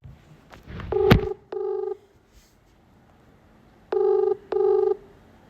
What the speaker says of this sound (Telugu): ముందుగా నేను కాల్ చేసిన వాళ్ళకి ఒకసారి మీరు కాల్ రికార్డింగ్ క్లియర్గా అయితే వినొచ్చు